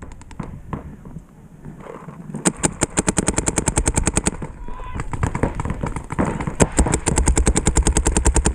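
Rapid, loud video-game gunfire with automatic bursts and sharp single shots crackling almost nonstop, with a voice talking over parts of the exchange.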